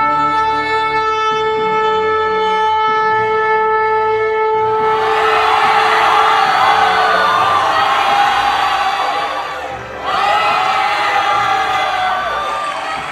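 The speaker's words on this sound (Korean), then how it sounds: "성전에 모인 백성들은 박수와 함성으로 요아스가 왕이 된 것에 기쁨으로 화답했습니다" A temple crowd roars with cheering and clapping for a newly crowned young king, a loud, sustained swell of voices and applause over steady tonal music, dipping briefly near the end before rising again.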